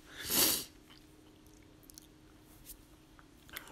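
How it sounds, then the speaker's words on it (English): A single sharp sneeze bursts out near the start during a morning Bible teaching, loud and close, followed by quiet room tone with faint small noises. "It wouldn't be a midweek teach if I didn't sneeze."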